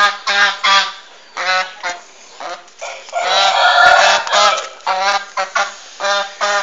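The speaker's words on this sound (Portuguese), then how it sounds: "Esses gansos são de briga, hein?" African geese honking loudly and repeatedly in bursts while fighting, harsh overlapping calls close by with a brief scuffle of agitated cries in the middle.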